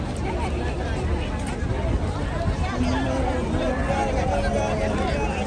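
Large crowd of pilgrims on the open Arafat plain near Jabal al-Rahmah, a steady dense hubbub of many distant voices and movement filling the whole stretch without letup.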